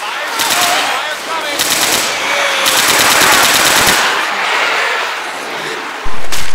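Rapid automatic gunfire in Left 4 Dead 2, loud bursts of machine-gun fire over a noisy game soundscape, broken by short pauses, with players' voices mixed in.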